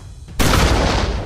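A German Army Flak 88mm cannon fires once in an animated scene: a sudden loud blast breaks out of quiet and holds as a dense roaring burst until the end.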